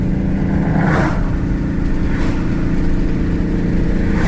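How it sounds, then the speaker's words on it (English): A loud, close race truck engine with a Whipple supercharger rumbles steadily with a deep throaty exhaust, rising slightly in pitch as it revs, continuous throughout. "So it sounds like that exhaust opened up a little bit."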